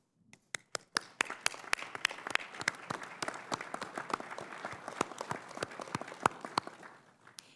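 Audience applause breaking out at a joint House and Senate veterans' affairs committee hearing, a moderate patter of claps from a small room that swells briefly and tapers off after about seven seconds.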